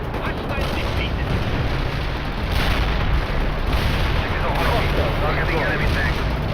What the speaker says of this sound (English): Both up firing mortar. Mortar strike requested.